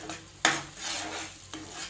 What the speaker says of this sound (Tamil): பாதாம் ஊற்றி நல்லா கிளறி விடுங்க.